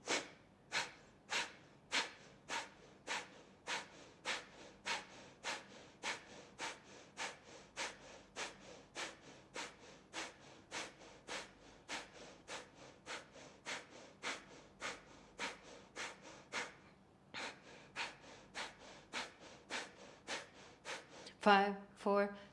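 During a core yoga flow, sharp forceful exhales through the nose come in a fast, regular series of about thirty puffs, each crisp and close, before a brief pause and a final fuller breath.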